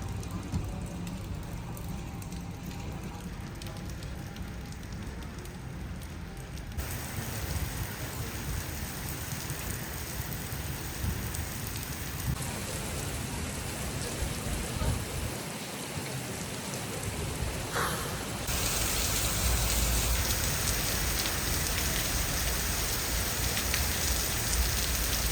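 Heavy rain pours down steadily and loudly on surrounding surfaces during a flash flood downpour, a dense continuous wash of drops with a faint distant rumble of thunder, and no voices.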